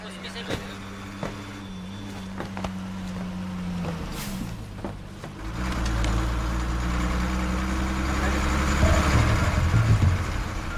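A bus engine idling at a stop, a low steady rumble that grows louder and fuller partway through as the vehicle revs, with people talking nearby over it.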